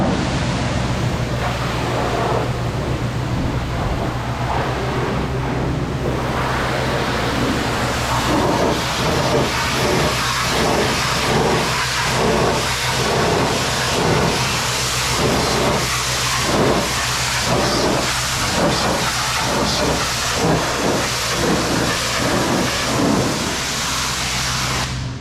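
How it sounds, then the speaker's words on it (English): Pressure washer spraying off soap from a vehicle, a steady loud hiss of high-pressure water with rhythmic pulsing bursts as the jet sweeps across the surface, continuous over a low constant hum and no talking. "So there you can see them applying soap and then pressure washing it off."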